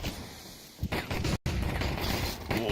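Rapid bursts of gunfire crack through a windshield in a Counter-Strike match, loud and dense with a brief gap in the middle.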